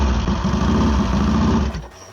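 A Triumph show bike's engine runs with a loud, close, throbbing idle, then abruptly cuts out near the end, leaving near silence.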